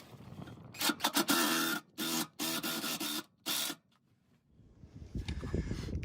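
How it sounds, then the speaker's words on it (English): An impact driver runs in several short, loud bursts, close by, as it drives bolts into an RV stabilizing jack on a trailer camper, followed by quieter shuffling handling noise. "Using the provided bit and an impact driver, I'm going to go ahead and put the bolts in."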